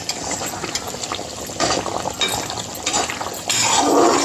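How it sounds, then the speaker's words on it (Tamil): Eggplant curry being stirred in a pan, with a soft bubbling and wet scraping, plus a few clinks of a spoon against metal, close up. "கத்திரிக்காவும் நான் அதில் சேர்த்துட்டேன் சேர்த்துட்டு நல்லா கிண்டி விடுங்க"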